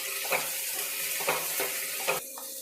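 Grated ginger, garlic and chickpeas sizzle steadily in a hot pan. A spatula stirs and scrapes the pan in three or four distinct strokes over the constant frying hiss.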